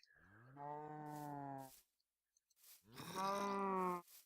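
Cows in the farming game Magic Farm moo in two long, loud, drawn-out calls separated by a short pause, with no other sound between them.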